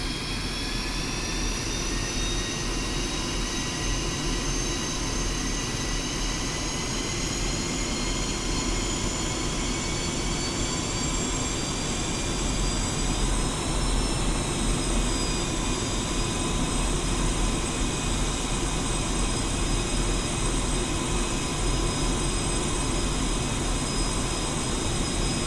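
A Ka-50 Black Shark helicopter taxis in the DCS combat flight simulator, giving a steady, loud turbine whine with high tonal lines over a constant low rumble that rises slightly in pitch midway and otherwise holds unchanged throughout.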